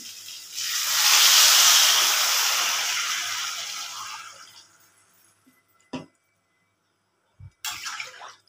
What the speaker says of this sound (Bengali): পরিমাণ মতন জল দিয়ে দিচ্ছি।